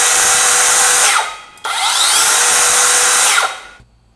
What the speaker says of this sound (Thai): การเริ่มใช้งานเลื่อยวงเดือนไร้สายโอซุกะก็เริ่มด้วยการวัดระยะครับถ้าเกิดว่าคุณต้องการจะตัดไม้